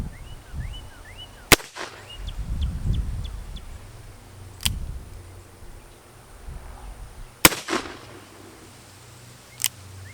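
Cimarron Colt 1860 Army revolver fired at an outdoor range: a handful of sharp, loud single reports spaced several seconds apart over quiet background, with faint birdsong between shots.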